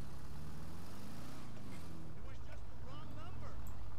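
A car engine in GTA 5 rumbles low and fairly faint, with a steady throaty drone that rises slightly toward the end, partly under a voice.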